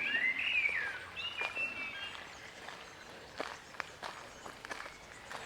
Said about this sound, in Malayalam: നിങ്ങൾ ഈ കേൾക്കുന്ന പക്ഷിയുടെ സൗണ്ടൊക്കെ